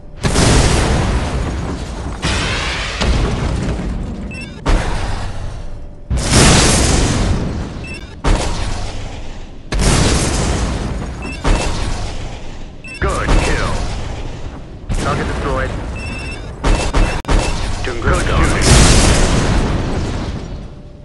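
Incoming surface-to-air missiles blow up one after another in a drone strike game, loud booming blasts every two to three seconds with brief gaps between them, and a voice occasionally heard beneath.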